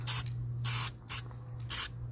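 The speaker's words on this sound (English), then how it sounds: "I'll spray all of that all under these guards." Aerosol coating sprayed under the wheel guards of a Mazda RX4 in four short hissing bursts, close and fairly quiet, with a low steady hum beneath.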